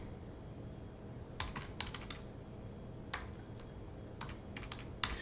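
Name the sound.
typing on a computer keyboard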